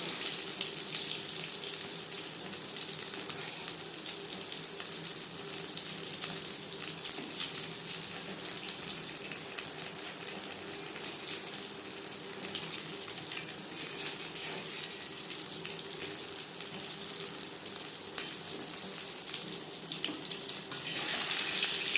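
Eggplant slices frying in hot oil give a quiet, steady hiss that runs unbroken for the whole stretch, with no voices or other sounds on top.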